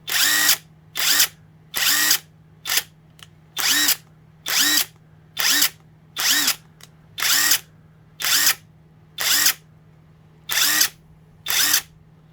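An AalloyMan 1/2-inch brushless impact wrench fires in a dozen short, sharp bursts at a steady, even rhythm, each cut off by a brief pause, over a faint constant hum.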